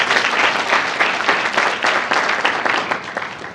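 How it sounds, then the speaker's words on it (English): A book launch audience claps in a warm round of applause, a dense, steady patter of many hands at close range that holds throughout without pause. "Let's give them a warm round of applause."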